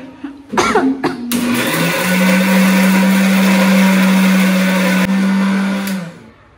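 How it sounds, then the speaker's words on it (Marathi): A kitchen mixer grinder is grinding coriander powder. After a few coughs and brief starts, the motor runs at a steady, loud, close whine for about four seconds, then spins down. "इकडे आपण मिक्सर लावलेलं आहे. मिक्सर पण रेडी आमच्याकडे."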